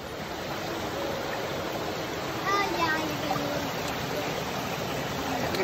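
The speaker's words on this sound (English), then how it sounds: "If you listen carefully, you can hear the water going." Spring water flows at the headwaters of the Sacramento River in Mt Shasta City Park, making a soft, continuous, steady rushing wash heard from nearby.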